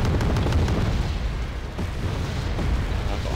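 Artillery bombardment in the real-time strategy game Wargame: Red Dragon, with heavy booming explosions rolling continuously and loudly, overlapping into a dense low rumble.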